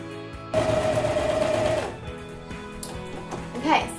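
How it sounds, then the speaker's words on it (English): A coverstitch sewing machine stitches bathing suit fabric, starting with a loud steady mechanical whir for over a second before easing into quieter handling sounds, close by, with no talking. "let's go ahead and make sure all of our edges are lined up and start cover stitching"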